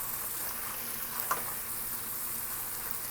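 Curry spices for Guyanese curry chicken fry in a pot with a steady, soft hiss and sizzle while being stirred, with one brief clink partway through and no talking.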